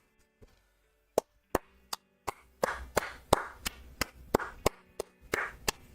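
Applause in the game Zenless Zone Zero, sharp isolated claps at first that build into a rhythmic run of loud, evenly spaced hand claps with a wash of cheering-like noise between them.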